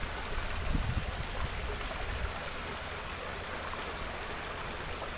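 A small stream of water flowing between two ponds in a regional park in Medicine Hat, Alberta, giving a close, steady rushing trickle with no voices.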